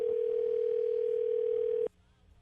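Steady telephone dial tone rings out loud and alone for nearly two seconds while a call to a woman is being placed, then cuts off abruptly into quiet line hiss.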